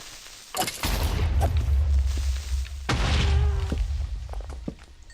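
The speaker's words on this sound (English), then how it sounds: "Lots of explosions." Explosions in an open area of the video game Legend of Uncertainty 1 boom loudly with deep low rumbles, two big blasts about two seconds apart followed by scattered thuds and crackling gunfire.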